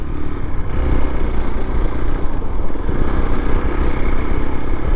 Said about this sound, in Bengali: বাইকটা খুব সুন্দর সার্ভিস দিয়ে যাচ্ছে